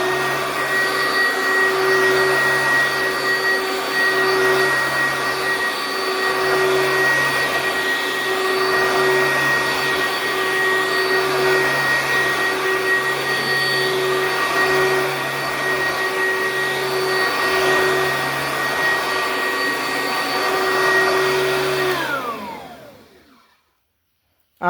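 An Oreck vacuum cleaner runs steadily with a loud, constant motor whine and airy roar, then spins down and cuts off near the end.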